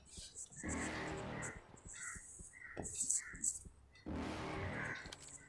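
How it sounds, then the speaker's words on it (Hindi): Car in PUBG Mobile driving past, engine rising then fading in two passes with crow-like caws and small clicks in between, fairly faint overall. "और पीछे से भी एक गाड़ी निकलती है"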